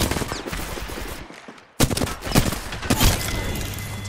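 Video game gunfire in rapid automatic bursts, loud and close, with a short lull and near-silent gap before sharp volleys resume with clattering shots.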